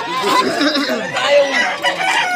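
Gamecocks at a chicken market, close, loud crowing and clucking that rise and fall over a couple of seconds, with faint voices in the background.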